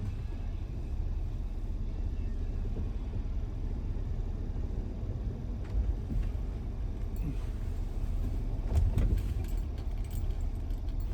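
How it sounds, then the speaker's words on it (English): A 2004 Toyota Sienna on a test drive after a rear brake pad job gives a steady low cabin rumble of engine and road noise, with light rattles and jingling keys over it and no talking. "let's go take it for a test drive"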